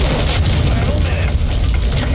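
Missile explosion in Call of Duty: Modern Warfare II: a loud, deep, continuous rumbling blast that fills the whole two seconds without easing off.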